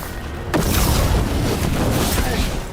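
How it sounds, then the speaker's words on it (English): A mortar round exploding in Dragon Age: The Veilguard, a sudden loud boom about half a second in that trails into a long rumbling roar, with voices around it. "They've got mortars!"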